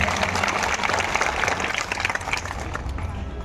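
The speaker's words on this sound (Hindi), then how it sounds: "तो एक बार जोरदार तालियां उनके लिए।" A crowd at a land-lease distribution event in Chhindwara, India, claps steadily and loudly, a dense wash of applause that holds throughout with faint voices mixed in.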